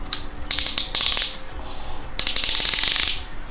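A ratchet wrench cranks a 4AG engine in loud, close bursts of rapid clicking, a short run at first, then a longer sustained spell.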